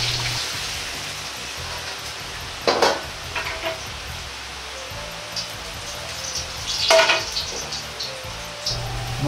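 Shrimp and taro pieces blanching in hot oil in a wok, a steady frying sizzle with occasional stirring bursts and clatter, close and moderately loud, no voices.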